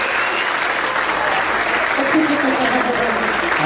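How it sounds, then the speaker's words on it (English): Steady, dense applause from a wedding reception crowd during the toasts, loud and continuous throughout with no breaks. "Let's give a round of applause."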